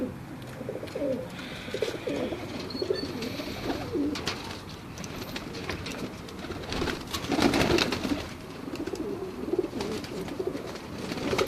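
Pigeons coo repeatedly at close range, their soft throaty calls overlapping in a steady chorus inside a loft of a hobbyist's fancy birds, with no talk.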